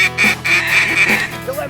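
Ducks quack in a loose, repeated burst of harsh nasal calls during a South Dakota duck hunt, fairly close and loud, with brief pauses between calls.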